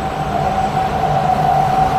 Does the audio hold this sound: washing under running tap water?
no